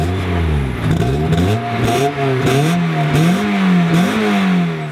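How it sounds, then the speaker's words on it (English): A stock-exhaust Mazda Miata 1.6L engine starting, idling, then revving repeatedly through the exhaust, rising and falling in steady pulses, loud and close. "First off, we have the stock exhaust system, the startup and revs."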